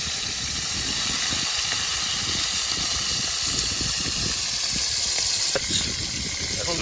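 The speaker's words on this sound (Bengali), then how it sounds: "তেলটা গরম হয়ে গেছে দেখুন, মাছগুলো একা একা ছেড়ে দেওয়া হচ্ছে," Koi fish sizzling in hot oil in a village-style outdoor kitchen, a steady loud hiss with bubbling crackle that continues throughout, while a voice speaks faintly beneath it.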